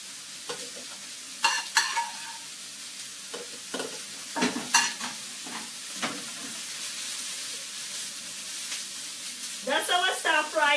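Aubergine, garlic, parsley and green chili stir fry sizzling in a pan, a steady hiss broken by repeated loud scraping and clattering stirs and a louder burst of sizzle at the end.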